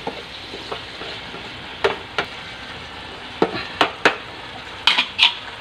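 Tofu stir-fried with kangkong and tinapa sizzles steadily in a pan, broken by several sharp scraping strokes of a utensil against the pan, close with no talk.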